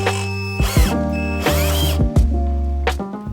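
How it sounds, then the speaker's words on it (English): A power driver runs a screw in while a Vicrez V3R style rear spoiler is installed on a Chevrolet Corvette C8, giving several short, loud whirring bursts with clicks between them, close up and without talk. "now we're just gonna go ahead and put in this last screw in"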